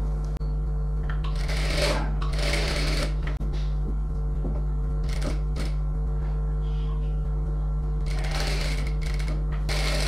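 A sewing machine runs a long stitch joining the lining of a designer blouse to its main cloth, in short whirring bursts separated by pauses against a steady low hum.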